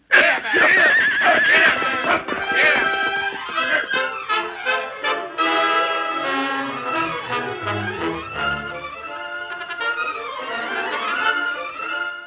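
Horses whinny and wheeze loudly and close by while straining against a rope, long shrill neighs rising and falling over several seconds, with a voice briefly heard underneath.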